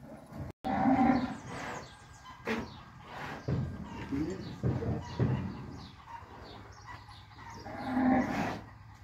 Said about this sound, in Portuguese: muito gado lá, Roberto.